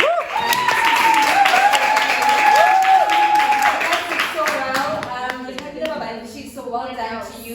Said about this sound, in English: So let's give a round of applause for them.